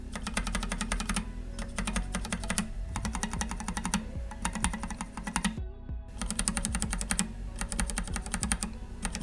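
Typing on a mechanical keyboard with smooth linear switches, a close, crisp clatter of rapid keystrokes in bursts separated by short pauses, with no voices.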